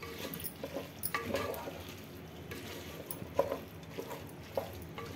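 Minced mutton for Hyderabadi kheema tahari is stirred and mixed in a pot, giving soft, quiet scraping and squelching strokes with a faint sizzle underneath.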